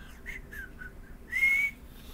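A person whistles a tune, a short clear melodic phrase of several notes ending on a longer held tone, close and fairly quiet.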